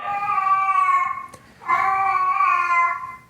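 A house cat meows at its own reflection, letting out two long, drawn-out, wailing meows separated by a short gap, close and loud.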